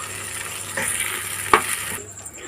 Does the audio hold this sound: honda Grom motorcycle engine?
no